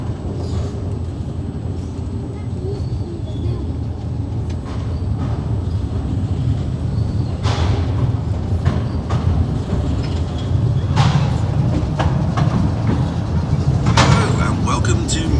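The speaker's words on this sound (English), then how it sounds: "You're about to explore some of London's hidden underground postal railway" A Mail Rail train carries riders through London's hidden underground postal railway, a steady loud rumble of wheels and motor with occasional sharp clanks and squeals along the track.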